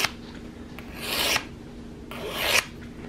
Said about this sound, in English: filing the edge. This is not a real aggressive file.